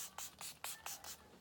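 Five quick bursts of Milani Make It Last setting spray misted onto a face, short hissing puffs in a fairly even rhythm, close and quiet with no talking.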